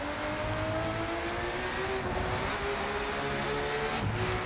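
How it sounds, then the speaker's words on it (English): A race car engine in the racing game RENNSPORT roars steadily and close, its tone shifting with revs, as sharp exhaust pops and crackles break through the drone. "But car sound, some explosions here on the exhaust."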